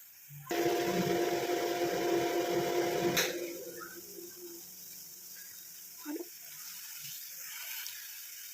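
A loud steady bubbling roar of a thickening herbal black cumin hair dye mixture boiling vigorously for a few seconds, then settling to a quieter simmer with occasional small pops.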